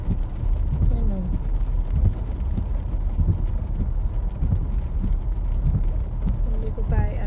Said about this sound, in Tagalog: Talagang tuloy-tuloy yung wiper.